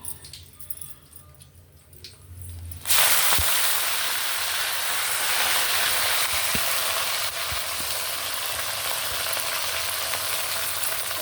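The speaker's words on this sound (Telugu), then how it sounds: "ఇప్పుడు పచ్చిమిర్చి వేస్తాను. పచ్చిమిర్చి, కరివేపాకు," Green chillies and curry leaves drop into hot oil with a sudden loud crackling sizzle that starts a few seconds in, then holds as a steady, dense frying hiss close by, with a few stirring clinks and no talk.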